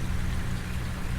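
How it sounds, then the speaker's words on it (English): Steady rain falling in Farming Simulator 19, a constant dense hiss with low rumble, continuous and even throughout with no voices. "it's raining"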